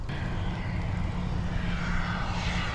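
A large RC model jet, around six feet wide, flies overhead in a continuous loud engine roar that swells slightly, with no talking.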